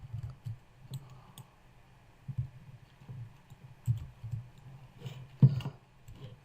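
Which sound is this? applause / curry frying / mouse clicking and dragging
mouse clicking and dragging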